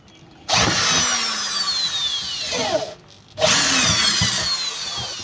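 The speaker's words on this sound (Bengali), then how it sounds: "সহজে ফুটা হয়ে যাচ্ছে মেশিন দিয়ে।" A power drill bores holes into a lighting board for badminton court wiring, its loud whine running steadily for a few seconds, stopping briefly, then starting again close by.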